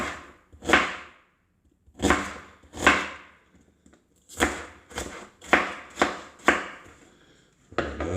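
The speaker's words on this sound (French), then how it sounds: "hop, on va hacher l'oignon." A kitchen knife chopping an onion on a board: irregular single and clustered crisp thuds, close and clear, separated by short silent pauses, with no voices.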